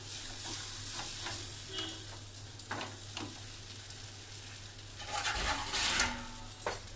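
A spatula stirs boiled dal in a pan, giving soft scraping strokes at irregular intervals over a quiet steady sizzle, with a louder burst of scraping near the end.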